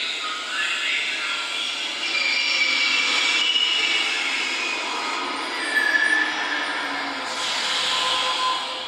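Whooshing, whining rush of a metro train moving through a tunnel in the video game The Longest Journey, steady and fairly loud with rising and falling high-pitched tones.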